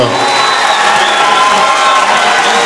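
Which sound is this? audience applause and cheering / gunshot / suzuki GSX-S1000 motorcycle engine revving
audience applause and cheering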